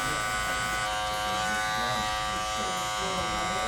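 Electric hair clippers fitted with a 1.5 guard, fully closed, buzz steadily and continuously up close while cutting straight hair during a fade haircut.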